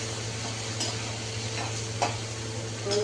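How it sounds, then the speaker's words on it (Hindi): Onion fries in a pan with a steady low sizzle, broken by a few soft stirring scrapes and faint utensil taps, close and fairly quiet, with no talking. "तो इसको मैंने फ्राई कर लेना है अच्छी तरह।"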